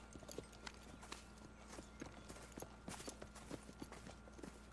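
Horse hooves clip-clop in Red Dead Redemption 2, a steady rhythmic trot of soft thuds at moderate distance over a low ambient hum, with no talking.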